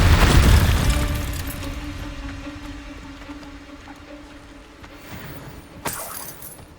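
A Confringo blasting spell explodes in the Hogwarts Legacy video game: a heavy boom at the start that rumbles and decays with a lingering hum, then a sharp crackling burst near the end.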